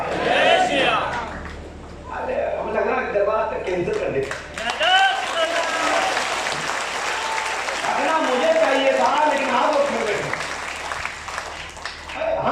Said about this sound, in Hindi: तुम लोग यहाँ बैठ के खा खा के भी ताली बजा रहे हैं